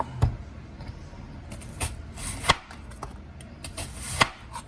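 A knife slices an onion into rings on a board, giving several sharp, separate cuts spaced irregularly, close and clear against a quiet background.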